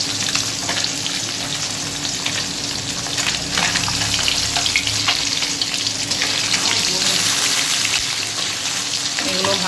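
Fresh Ganges fish frying in hot oil, a loud, dense and continuous sizzle with crackling spatter, close up and unbroken throughout.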